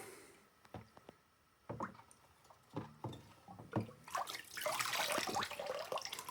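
Distilled water splashes and trickles while BMX rims are rinsed of acid, starting with soft drips and clanks, then building into a louder steady pour near the end.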